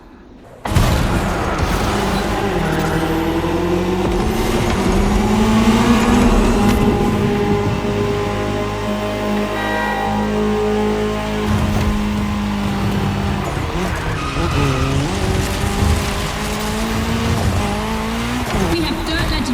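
Rally cars in The Crew Motorfest video game race on dirt, engines roaring continuously at close range as tires squeal and skid, with a loud impact and constant high revving all the way through.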